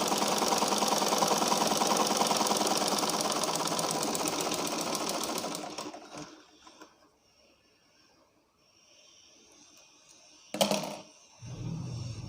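A sewing machine stitches elastic onto shirt fabric with a loud, fast, steady mechanical whir for about six seconds, then stops, leaving quiet handling sounds and a brief bump near the end.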